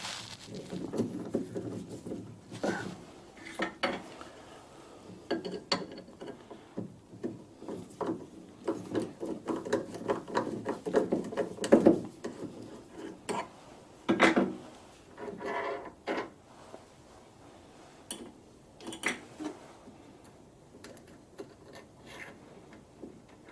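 Irregular wooden rubbing and scraping with scattered knocks and clicks as a wood lathe's spindle is turned by hand with a drill chuck and taper in fits and starts, close by.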